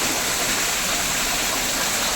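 Steady broadband rush of water cascading down an indoor waterfall in Singapore's Cloud Forest conservatory, continuous and fairly loud with no voices.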